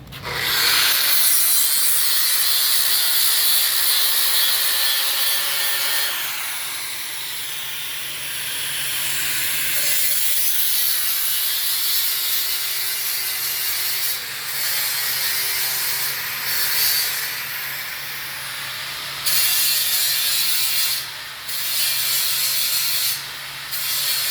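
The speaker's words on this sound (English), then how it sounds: "Now it's all welded. Now let's grind it." An angle grinder grinds down welds on a metal deck rail, producing a loud, continuous abrasive rasp and hiss that shifts in pitch and pressure across the whole stretch.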